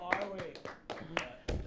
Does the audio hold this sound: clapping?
yes